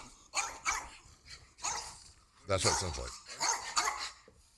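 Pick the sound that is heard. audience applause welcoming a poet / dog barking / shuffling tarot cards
dog barking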